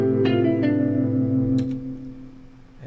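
A newly composed melody plays back as a few sustained, reverberant synthesized tones, with a brief note change before the sound fades out.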